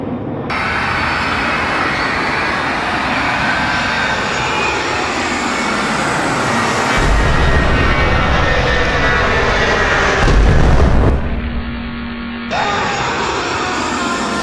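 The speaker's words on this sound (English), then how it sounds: "Thousands of planes are falling from the sky" Roaring aircraft engines swell and rumble continuously as planes fall from the sky in an apocalyptic attack scenario, with a deep surge near the end before cutting to a thinner drone.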